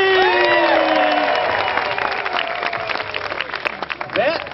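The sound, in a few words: audience clapping and cheering on count of three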